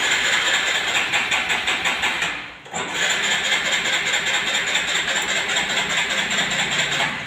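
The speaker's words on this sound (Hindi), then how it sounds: "सेल्फ भी प्रॉपर ले रही है गाड़ी, जो है इग्निशन वगैरह भी प्रॉपर है, बट गाड़ी स्टार्ट नहीं हो रही है।" A Hero Glamour BS6 fuel-injected motorcycle's self-starter cranks in a rapid whirring churn without the engine catching, briefly cutting out partway before cranking again, close and loud with no speech.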